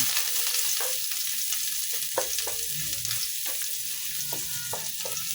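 Garlic sautés in rendered meat fat for pinakbet, giving a loud continuous sizzle with a few light utensil taps and stirs throughout.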